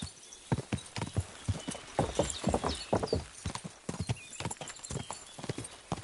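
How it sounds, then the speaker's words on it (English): Rapid clip-clop of horse hooves in the video game Kingdom Come: Deliverance II, close and loud, with an irregular galloping rhythm and a brief whinny mixed in. "Your horse nearly trampled me!"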